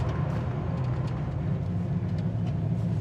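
A 1969 Pontiac Firebird with a 400 engine idling, a steady low rumbling burble held evenly and close throughout, with no talk over it.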